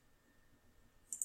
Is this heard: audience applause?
no